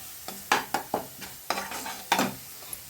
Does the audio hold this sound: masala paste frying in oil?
yes